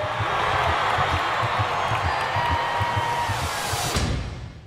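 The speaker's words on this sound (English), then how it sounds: "Let's have a big round of applause for Maria Bamford!" A studio audience claps and cheers for comedian Maria Bamford in a broad, loud wash of applause that holds steady, then fades out near the end.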